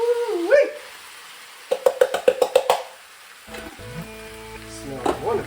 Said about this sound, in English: Add our beans in.